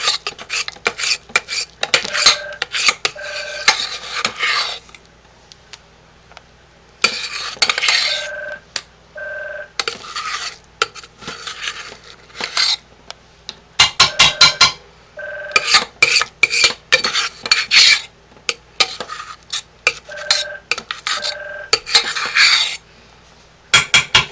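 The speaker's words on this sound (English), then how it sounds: "this is what our pot looks like while I'm scraping it out." A metal pot is scraped out by hand while making lye, repeated rough rasping strokes in bursts with pauses and some tonal clinks, close and fairly loud.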